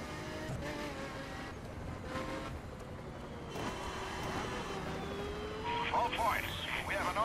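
A video game police siren wails during a car chase in The Crew over a steady car engine drone, with a rising, sweeping tone partway through and faint electronic sounds near the end.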